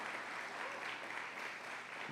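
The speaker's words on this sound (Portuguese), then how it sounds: "Queria dar uma salva de palmas para o pessoal do louvor." Faint, steady round of applause from a church congregation for the worship team, continuous and fairly distant.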